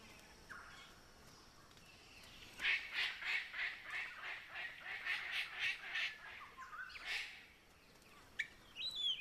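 Palm cockatoo calling in the Australian wild, a run of about a dozen harsh, rhythmic squawks in a steady series, moderately close, followed by a louder isolated call and a few faint later notes.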